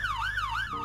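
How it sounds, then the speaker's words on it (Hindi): A siren wails in the Roblox game Brookhaven, a wavering electronic tone sweeping up and down in quick cycles, fairly loud and close, cutting off near the end. "ये सायरन की आवाज़ है"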